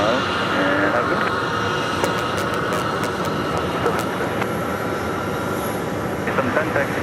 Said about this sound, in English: And making its way in is American Airlines Flight 1487 from Santa Barbara. Landing on runway 26.